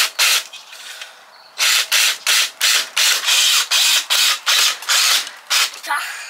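Two small Phillips screws are driven to mount a fan's plate on a greenhouse bench, with a run of short, loud, evenly spaced ratcheting bursts from a nearby driver and brief pauses between them.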